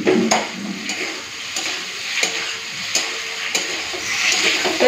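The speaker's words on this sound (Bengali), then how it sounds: "এখন ভেজে রাখা আলুটা দিয়ে দেবো" Fried potatoes being stirred into a cooked spice masala, a soft sizzle broken by several sharp scraping strokes of a spoon against the pan at an uneven rhythm, close and without speech.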